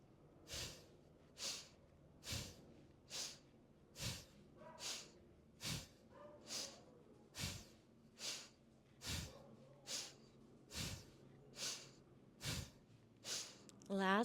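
Steady yoga breathing, each inhale and exhale an audible, even breath repeating at a regular pace about every second, close and alone against a quiet room.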